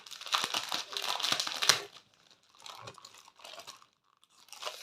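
Close crinkling and tearing of a paper wrapper, busy for a couple of seconds, then softer intermittent rustles as the package is handled.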